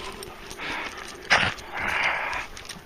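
A dog panting and moving close by, with a sharp burst of sound midway and some rustling outdoors.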